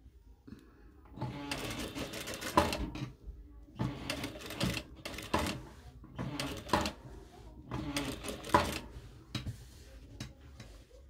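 A sewing machine stitches a garment facing in several whirring bursts of rapid needle clatter, separated by short quiet pauses, heard up close.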